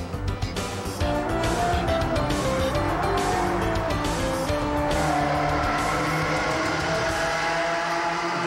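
Race cars on China's first Formula One circuit in Shanghai, with loud engine roar, gear-shift pitch changes and passing revs sustained throughout, with no voices.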